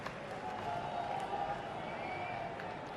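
Cricket crowd at a Test match in Nottingham applauding a Virat Kohli century, a faint, distant wash of clapping and cheering with a commentator's voice murmuring underneath.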